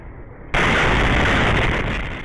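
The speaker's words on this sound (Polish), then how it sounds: "to właśnie atak bezzałogowca mógł spowodować potężną eksplozję w oddalonych o 50 km od stolicy zakładach optyki mechanicznej" A powerful explosion hits a mechanical optics plant making equipment for the army, about 50 km from the capital, reportedly in a warehouse of pyrotechnic gear; a sudden loud blast cuts in and becomes a sustained, rumbling roar.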